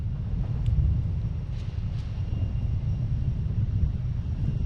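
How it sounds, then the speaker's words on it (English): A Pilatus PC-12 airplane takes off at Boston Logan International Airport, heard as a steady, loud, low engine roar with wind noise that holds for several seconds without a break. "next taking off, we have a plane sense heading to Martha's Vineyard."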